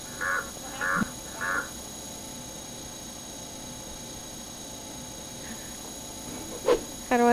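A bird in the video game Garry's Mod caws three times in quick succession early on, then once more faintly, over a steady background hiss and hum.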